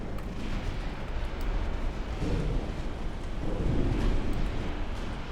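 Naval gunfire and torpedo hits in the warship game Ultimate Admiral Dreadnoughts come across as a steady, dense rumble of distant booms and blasts that swell slightly twice, with no voices.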